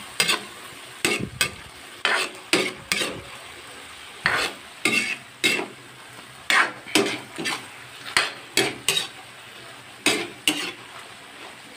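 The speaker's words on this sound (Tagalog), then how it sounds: "Lagyan ko na ng toyo, soy sauce." Food being stir-fried in a pan with soy sauce, a spatula scraping and clanking against the metal in quick uneven bursts over a steady background sizzle, close and fairly loud, with no talking.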